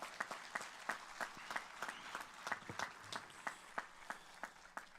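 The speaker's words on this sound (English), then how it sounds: "give one more round of applause for all those students" Applause from the audience at a 2023 high school commencement for the graduating students, with dense, steady clapping filling the whole stretch and a few sharper individual claps standing out, with no voices.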